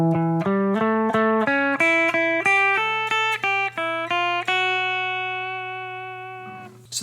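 A guitar plays an arpeggio lick from an E shape, a dominant 7 chord resolving to a major chord. About a dozen quick stepping notes end on a long ringing note, heard close and clean without talk.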